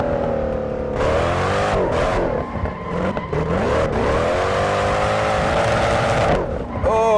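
A Mercedes C63 V8 engine sound mod in the Assetto Corsa racing game, heard from the external view, revs loudly and continuously as the pitch climbs and drops through gear changes, with brief dips while the car drifts.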